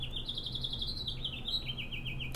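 A songbird sings outdoors in a run of quick repeated chirping phrases, clear and fairly near, over a low steady background hum.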